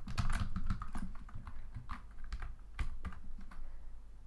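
Rapid typing on a computer keyboard while entering form validation code, a dense run of close, crisp key clicks with small pauses and no voices.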